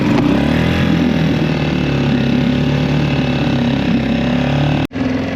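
A small outboard boat motor, started with choke on and throttle up, roars loudly and steadily, revving at high pitch, then cuts out abruptly near the end before catching again.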